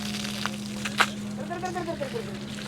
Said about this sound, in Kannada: ನೋಡಿ ಆನೆ ಮೇಲೆ ಹತ್ತು ನಿಂತು ಸ್ನಾನ ಮಾಡಿಸ್ತಿದ್ದಾರೆ